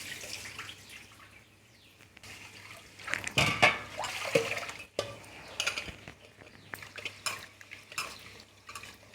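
Grains being rinsed in a vessel of stored water, not tap water, for a prasadam offering: irregular splashing, swishing and clinks of a pot close by, alone with no talk.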